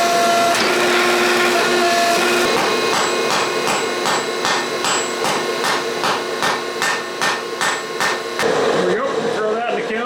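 A smith hammers a ladder Damascus steel knife blank to draw out the tang, a long run of evenly spaced ringing blows, loud and close, with a steady background hum.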